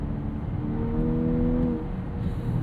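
Volkswagen Atlas Cross Sport SEL Premium R-Line with a 2-liter turbo engine, a low, fairly quiet hum from inside the cabin with a brief rising tone as it revs, then settles.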